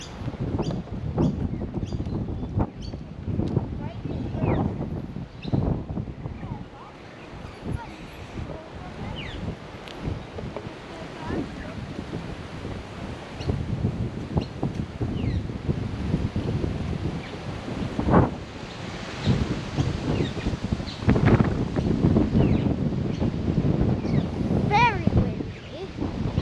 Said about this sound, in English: Very windy up close.